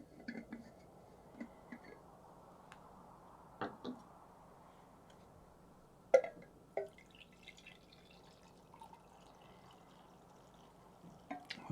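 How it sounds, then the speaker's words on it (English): Tea poured from a teapot into a cup, faint irregular drips and trickles with soft clinks scattered over a quiet background, alone and close. "pour myself a cup of tea."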